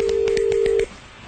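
Rapid series of phone keypad tones as a number is dialed, about eight even beeps over a steady dial tone that cuts off partway, heard clearly and close with a faint background underneath.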